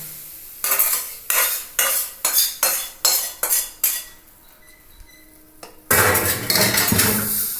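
Scrambled egg mixture being stirred into fried rice in a pan, with a metal spoon scraping and clanking against the pan in a steady run of about eight sharp strokes, then a denser, louder burst of scraping.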